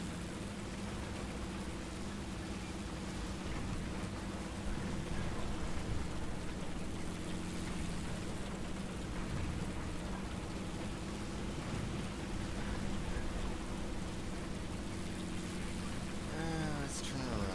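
A rainstorm in the tank game War Thunder, a steady dense hiss of heavy rain with a low rumbling undertone, continuous and even throughout, fairly loud, with faint voices in the background.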